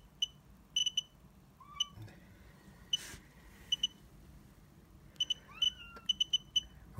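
A RADEX radioactivity meter gives short, sharp, high beeps, single or in quick pairs and triplets at irregular intervals, in a quiet room with a faint cat meow in the background.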